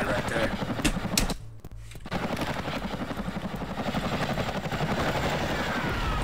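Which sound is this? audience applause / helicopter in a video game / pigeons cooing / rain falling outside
helicopter in a video game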